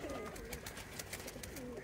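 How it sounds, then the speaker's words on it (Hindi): A pigeon coos softly in low, rolling notes against a steady background hum, heard briefly and fairly close. "ये है कबूतर"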